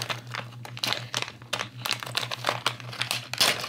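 Plastic packet of a Lego Minifigures Series 14 Monsters figure being crinkled and ripped open up close, a run of rapid crackling rustles with no talking.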